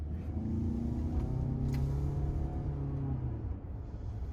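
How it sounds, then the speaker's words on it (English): A 2021 Toyota Venza Limited accelerating on the road, heard from inside the cabin as a steady low rumble of tyre and road noise with a rising engine tone that swells and then eases slightly, with no voices. "just listen in to hear some road noise as we accelerate"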